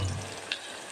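Whole cardamom and cloves fry with onions in a pan for mutton biryani, giving a soft, steady sizzle that lasts about a second, with one brief clink partway through.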